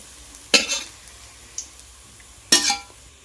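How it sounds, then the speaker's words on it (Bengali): Onions frying lightly in oil in a pan, a faint background sizzle punctuated by two sharp stirring scrapes and a small clink between them. "হালকা হালকা ভেজে নিতে হবে"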